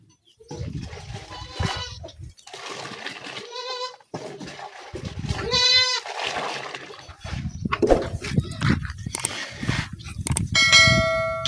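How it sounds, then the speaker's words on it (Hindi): Goats bleat repeatedly in a Punjab village farmyard, several harmonic cries rising over rustling and background noise, with a faint voice in places. "ये जानवरों को भी चारा डालना है और बकरियों को भी"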